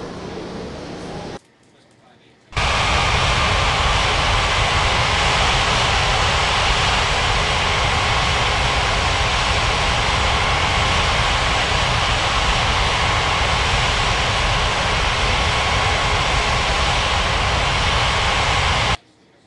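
An airliner takes off in the iOS game Unmatched Air Traffic Control, a loud, steady, wide engine roar that starts after a brief gap and holds unbroken for over fifteen seconds before cutting off.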